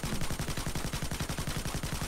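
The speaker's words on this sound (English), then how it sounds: "you can do that and fire off all your ammo" Gunfire in Payday 2, an automatic weapon emptying its ammo in a steady rapid burst of evenly spaced shots, loud and continuous with no talk.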